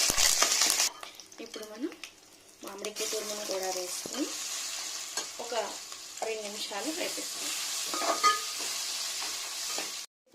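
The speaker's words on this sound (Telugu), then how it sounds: "ఒక నాలుగు జీడిపప్పు పలుకులు వేసుకొని కొద్దిగా కరివేపాకు కూడా వేసుకొని" Cashew pieces and curry leaves frying in oil for raw mango pulihora, a bright sizzle opening the clip and then dropping to a softer crackle, with a voice talking over it in bursts.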